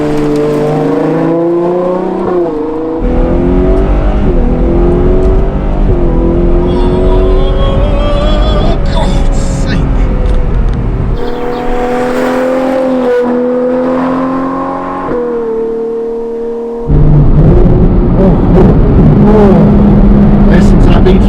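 A Ferrari 812 Competizione's V12 engine revs while driving, rising and falling through gear changes and braking, loud throughout, with someone talking over it.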